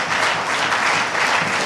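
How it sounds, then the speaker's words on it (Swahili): An audience at a Tanzanian institutional ceremony claps together in a short burst of dense, even applause, loud and close, with no voices over it. "Tumpigie makofi jamani."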